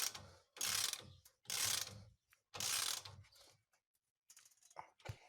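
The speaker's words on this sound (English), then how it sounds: "And now it's possible to start tightening the bolts." A ratchet tightens wheel bearing bolts in an X pattern on a Škoda Superb 2 hub, four bursts of close clicking pawl strokes separated by short gaps, then a few lighter clicks and clinks.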